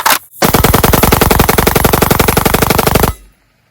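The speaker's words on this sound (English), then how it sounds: "The YouTube compliant capacity mag dump." A rifle with a forced reset selector fires a continuous rapid burst that empties a magazine of limited, platform-compliant capacity. The shots are loud and close, in a steady fast rhythm lasting nearly three seconds, then stop cleanly.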